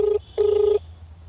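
A telephone disconnect tone after a prank call is cut off: two steady electronic beeps, a short one and then a longer one, loud and close with a faint hum beneath and no voices.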